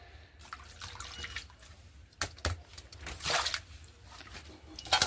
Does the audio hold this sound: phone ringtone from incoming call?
no